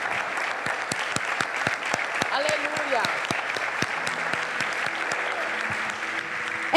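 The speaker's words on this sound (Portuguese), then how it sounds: "Você pode aplaudir sim o Senhor Jesus" Church congregation applauding in praise during a worship celebration, a steady dense clapping that runs throughout, with a voice speaking over it.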